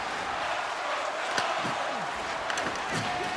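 Ice hockey arena crowd during an NHL game between St. Louis and San Jose, a steady dense roar with cheering swelling around offensive-zone pressure, a few sharp puck or board knocks rising briefly above the constant noise.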